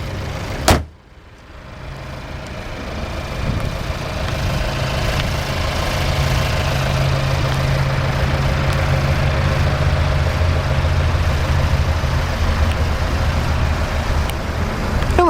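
A 2012 Fiat 500 Lounge's 1.4-liter engine idles steadily and close up after a brief start-up blip, with a low, even hum that holds throughout and no talking.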